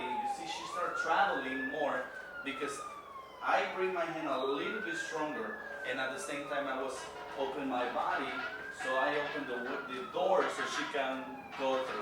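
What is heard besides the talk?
emergency vehicle sirens outside, near New York City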